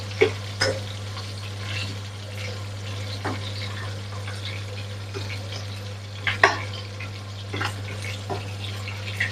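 Prawns frying in a pan with a steady low sizzle and hum, broken by occasional scrapes and clinks as they are stirred and turned.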